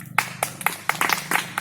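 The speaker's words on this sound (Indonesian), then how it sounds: "beri tepuk tangan untuk kelompok 2" Sparse, uneven handclaps from a small school class in a physical fitness lesson, a few sharp claps scattered over a quiet room rather than full applause.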